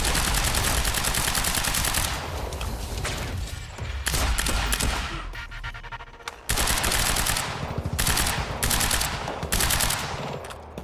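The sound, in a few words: sniper gunfire in the video game Quantum Break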